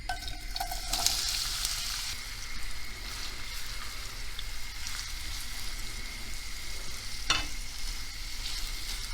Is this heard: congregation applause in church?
no